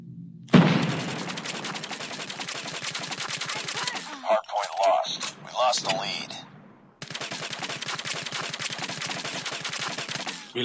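Rapid shots from a mythic Peacekeeper shotgun in a video game, a loud fast run of blasts that stops briefly for a few separate reports mid-clip, then resumes steadily to the end.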